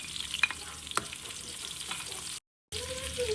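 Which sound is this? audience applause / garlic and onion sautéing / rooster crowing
garlic and onion sautéing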